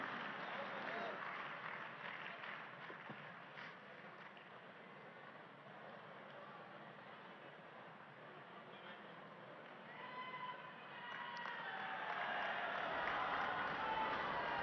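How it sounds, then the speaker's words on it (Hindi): A crowd applauds at a Delhi ceremony where slum residents receive new flats, a broad, steady wash of clapping that swells louder toward the end. "तालियों की आवाज के साथ, करतल ध्वनि के साथ"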